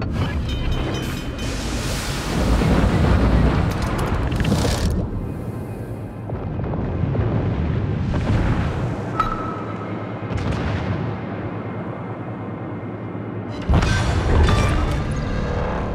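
Ship explosions and heavy gunfire in World of Warships with a Balao submarine, deep booms rolling over ocean and wind ambience, several loud bursts spread across the battle.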